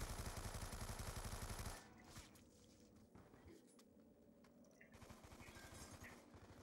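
Rapid automatic gunfire in a Black Ops 2 zombies match, a quiet burst of repeated shots that stops, then resumes faintly a few seconds later amid low game ambience.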